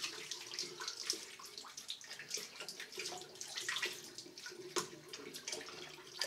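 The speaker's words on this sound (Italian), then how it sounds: "Io mi vado a bagnare il viso, così ci mettiamo un pochino d'acqua nel viso" Water splashes and runs into a sink as a face is wetted before shaving, with soft, irregular, fairly faint sloshing close by.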